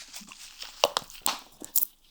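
Someone bites into crunchy food, producing a few crisp, close crunches and snaps in quick succession, with no talking.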